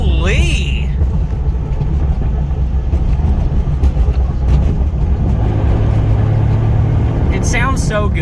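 A right-hand-drive Toyota Supra engine rumbles and revs up close, a loud low growl running throughout under excited talk from a man, with brief higher sweeps near the start and end.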